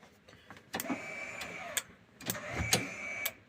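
Electric parking brake actuator retrofitted to a Land Rover Series 3, quiet whirring motor bursts punctuated by sharp clicks, engaging and releasing in separate short runs close by.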